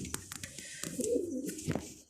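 A pigeon coos softly up close in a pigeon coop, a few short rolling calls, with light rustling and clicks around it.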